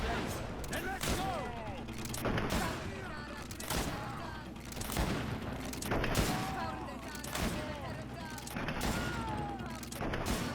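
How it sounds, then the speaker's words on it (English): Heavy volleys of gunfire in the video game Greedfall, with dense rapid shots repeating across the scene over a steady background bed, while voices speak intermittently in the mix. "That's a lot of bullets."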